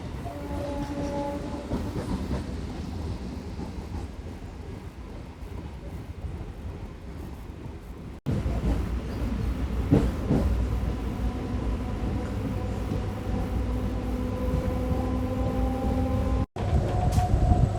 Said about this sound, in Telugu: మెమూ ట్రైన్ అయితే వెళ్తుంది